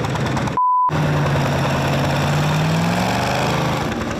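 A tractor engine at a tractor pull event in Geraldine revs up from a low rumble, its pitch rising and falling, loud and close, after a short electronic beep.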